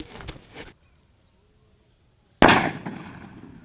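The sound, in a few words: small Sivakasi colour snake firecracker going off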